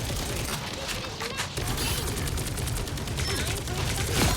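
Dense, continuous gunfire from the Marvel Rivals hero shooter crackles and rattles in overlapping bursts, with muffled voices mixed into the chaotic battle sound.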